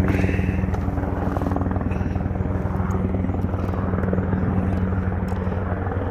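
A Black Hawk military helicopter passes over a fishing flat, its steady rotor thump and engine drone loud and continuous throughout.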